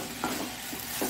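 Mixed carrot and potato vegetables for a Mangalore-style palya fry in a little oil, giving a steady soft sizzle with light stirring scrapes close by, quiet and continuous.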